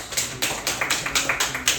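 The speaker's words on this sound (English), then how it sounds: "Then make me round of applause." Scattered hand claps at a small club meeting, a handful of people clapping unevenly in a loose rhythm for under two seconds, fairly close and without talk.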